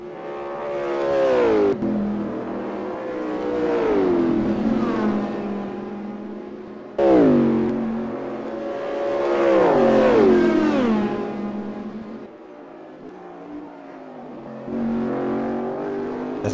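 Race cars roar along the straights of the Road America circuit, one engine after another climbing and shifting through gears with strong, wavering pitch sweeps, loud and close, with no talk.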